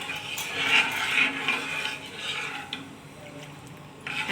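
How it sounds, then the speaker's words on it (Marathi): A spoon scrapes and stirs a thick green grape barfi mixture around a pan, a steady close rasping with soft metallic clinks, with no voices. "सतत तसं हलवत राहायचं आहे नाहीतर काय होईल खाली लागेल आणि गुटऱ्या तयार होतील"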